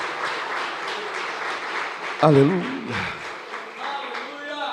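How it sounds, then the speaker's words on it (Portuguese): A church congregation claps during a sermon, a broad, steady patter of hands under a preacher's voice calling out, with a brief louder vocal burst in the middle. "Aplauda Jesus por esta grande verdade."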